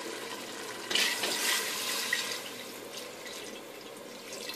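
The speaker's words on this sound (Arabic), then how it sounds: "ودابا من بعد ما تقلى اللحم غادي نضيفو الماء" Water pours into a cooking pot of fried meat for Moroccan marouzia, a steady splashing rush that starts abruptly, swells, then settles into a softer running trickle, with no talk.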